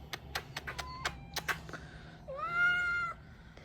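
A cat gives one drawn-out, close meow after a run of quick knocks and taps, in a quiet room.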